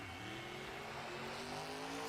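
Team Meents monster truck engine drones steadily as it drives onto the arena track at a freestyle event in Atlanta, a loud, sustained revving tone with rising pitch and no talk.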